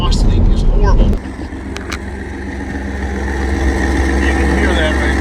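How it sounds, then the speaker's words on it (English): A Ford Mustang 3.7L with a bad exhaust leak at the passenger side header idles up close with a loud ticking, puffing rumble, after someone speaks briefly over it at the start. "This exhaust leak is horrible."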